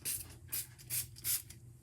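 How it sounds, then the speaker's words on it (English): Four quick bursts of Best Press starch spray misted onto fabric while sewing a decorative pillow, each short hiss evenly spaced and close by. "So I'm using some Best Press, just slightly spritz it."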